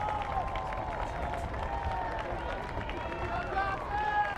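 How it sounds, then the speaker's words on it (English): Crowd applause and cheering from the Smithson Valley Rangers faithful as the team takes the pitch for a girls' bi-district round soccer match, a steady, broad wash of clapping and crowd noise throughout with no clear speech. "Much to the applause and adoration of the Ranger faithful."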